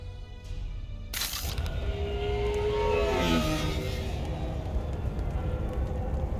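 A car engine in a video game starts up and revs, then a steady driving rumble continues with a rising whine in the middle, sounding close and fairly loud.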